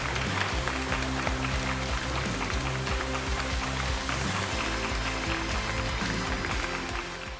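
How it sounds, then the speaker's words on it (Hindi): Dense applause fills Goa's Mormugao harbour as crowds welcome returning women navy officers home from a round-the-world sailing voyage, a steady unbroken wash of clapping with a low rumbling bed underneath. "पूरा बंदरगाह तालियों की गड़गड़ाहट से गूंज उठा।"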